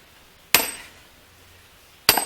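Two heavy sledgehammer blows striking firewood being split by hand, each a sharp loud crack with a short ringing decay, about one and a half seconds apart in quiet surroundings.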